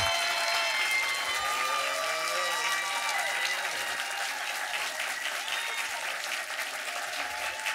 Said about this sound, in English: now you all have to stand up and clap because he asked you to do a standing ovation